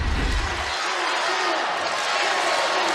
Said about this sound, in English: Crowd trying to urge the home team on